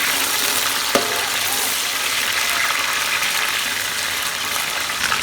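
Chicken leg pieces sizzle steadily in hot oil with golden fried onions, a continuous close crackling frying sound with a brief clink early on.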